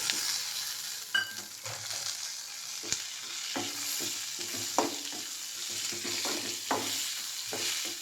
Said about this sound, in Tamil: இப்போ தக்காளி சேர்த்து வதக்கிக்கலாம்.